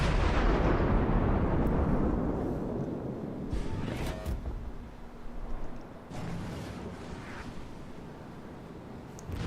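Heavy naval gun volley from the Japanese cruiser Myoko in World of Warships, opening with a loud low boom that decays into rumble, followed by fainter distant impacts and crackles.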